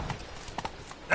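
Hooves of the horse Roach clop on the ground in The Witcher 3: Blood and Wine, a brief run of soft near footfalls lasting about a second, ending in a louder swell.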